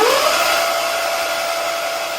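A Tasaca T500-V58 electric motor whines steadily at full throttle in mode 3, a loud, continuous high-pitched drone with an even hiss throughout.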